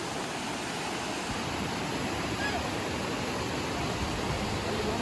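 A clear river flowing beside a forest trekking trail in the Kudremukh area of Chikkamagaluru, a continuous soft wash of rushing water, fairly faint and even throughout, with no one talking.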